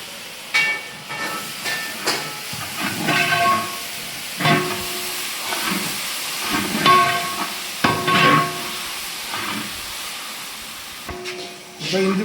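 Ginger garlic paste goes into a hot pan for a Kerala kadalai curry, giving a hissing sizzle that swells in bursts and fades, with a few clinks and a little background noise.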